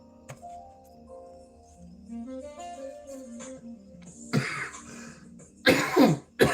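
A person coughs and clears their throat outdoors among trees, with a few sharp, harsh coughs near the end following quieter background sounds.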